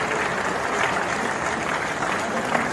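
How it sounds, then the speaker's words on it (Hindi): Loud applause greets the chief guest at a provincial convention of a diploma engineers' association, a thick, sustained clapping from a large crowd with a voice faintly over it. "जोरदार तालियों के माध्यम से आपकी सहभागिता में स्वागत और अभिनंदन में"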